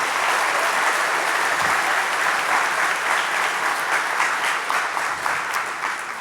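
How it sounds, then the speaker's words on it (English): A congregation claps at a church service, a continuous, even wash of many hands that stays at a steady level throughout and tapers slightly at the end, with no voices on top. "You can clap one more time"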